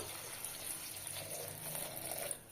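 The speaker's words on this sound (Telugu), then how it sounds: "ఈ గ్లాస్తో అయితే నీళ్ళు పోసుకోవాలి" Water poured from a glass into a cooking pot while making Rayalaseema gongura dal, a steady splashing gush lasting a couple of seconds, close and fairly quiet.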